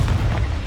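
Confringo explosion spell in Hogwarts Legacy, a loud deep booming blast with heavy low rumble that decays briefly, heard alone without voices.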